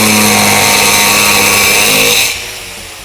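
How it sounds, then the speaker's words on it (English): Angle grinder fitted with an Hdii blade cutting absolute black granite, a loud close whirring grind that holds steady, then drops off sharply as the cut ends and the motor winds down. "Now that your Hdii is on your grinder, you're ready to go cut, sand, and grind whatever you want to cut."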